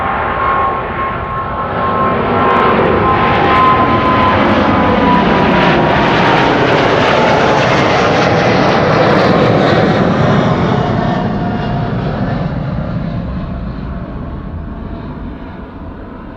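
KLM Boeing 777-200 jet departing Amsterdam Schiphol, its engine roar swelling as it passes, holding loud for several seconds with a faint whine, then fading into the distance.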